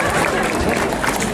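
Audience clapping fills a festive outdoor crowd as a folklore and ancient-combat group is welcomed onto a stage at a national-costume procession in Riga, dense, steady and loud throughout with crowd noise.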